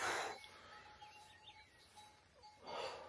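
Hens near a coop give soft, scattered clucks and chirps at close range, with two louder bursts of noise at the start and end.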